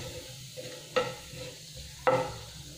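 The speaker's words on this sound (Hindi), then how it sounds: "इसमें हम डालेंगे जीरा और इसे भून लेंगे हम, और जीरा को अच्छे से फूटने देंगे।" Cumin seeds roasting in hot oil give a soft, steady sizzle close by, broken by two clear spoon clinks against the pan about a second apart.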